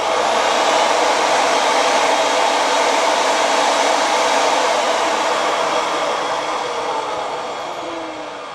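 A Bluerock PTM 300 pipe threading machine runs with a steady, loud whirring drone over the pipe threads, holding constant for most of the stretch before easing slightly toward the end.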